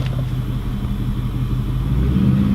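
A Ford F250 truck engine idles with a steady low rumble, then picks up slightly as the throttle is pressed near the end, running continuously and close by with no talk over it.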